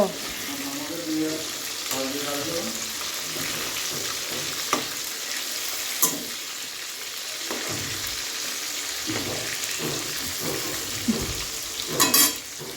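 Potatoes sizzle and crackle steadily in a hot pan while being made into aloo dum, with occasional clinks and scrapes of a stirring utensil.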